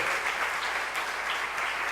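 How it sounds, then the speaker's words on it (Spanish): Congregation at a church service clapping together in joyful praise, a dense, continuous burst of applause filling the whole moment. "Vamos a darle un aplauso al Señor, hermano, de alegría, de gozo"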